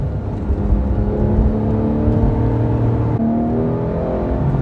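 A Porsche 911 GT3 engine pulls hard under acceleration, its loud, steady tone climbing in pitch, easing briefly as it shifts, then rising again, with no voices.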